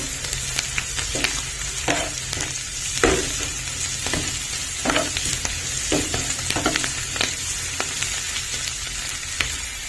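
Ginger garlic paste frying in a hot pan with beaten egg for an egg omelette curry, a steady loud sizzle with scraping stirs and clicks of a spatula throughout, no talking.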